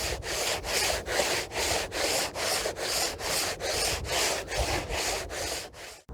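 Wet sanding a gelcoat crack repair with 240-grit sandpaper, water and a foaming PVA layer as lubricant: about a dozen steady, rhythmic rubbing strokes, close and fairly loud, with no talk.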